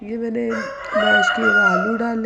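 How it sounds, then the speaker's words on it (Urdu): A rooster crows in the background, a rising and falling cry running through the clip beneath someone talking as she prepares chicken pakora in a home kitchen. "اور پیچھے سے مرغے کی آوازیں بھی آ رہی ہیں"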